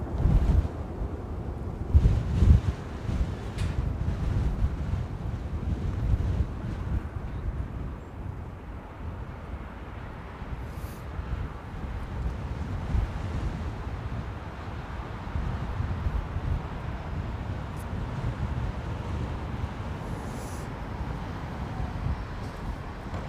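Steady wind at London Heathrow Airport, a continuous rumbling buffet against the microphone with gusty swells, loudest in the first few seconds, alone without voices.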